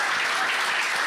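A crowd applauds in a dense, steady wash of clapping, loud and continuous throughout the short moment.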